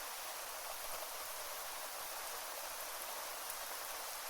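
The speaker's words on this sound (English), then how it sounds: "you will be standing in the rain for 2 hours." Steady rainfall in the survival game Terminus, a dense, even hiss of rain on surfaces that holds unchanged throughout at a soft, distant level, with no voices.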